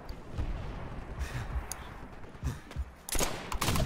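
Shotgun blasts in the Call of Duty 5 video game, several sharp bursts scattered irregularly, with a tight cluster of loud shots near the end over a busy background of battle noise.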